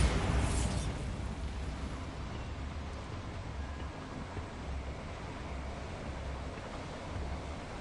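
A Bombarda spell bursting in Hogwarts Legacy, a loud blast at the start that settles into a long rumbling roar, with no voices.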